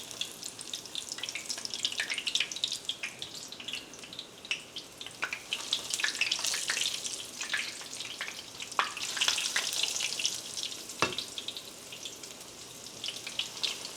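Chicken fries in hot grease in a pan, giving a continuous close crackling sizzle with scattered pops that stays steady throughout, no one speaking.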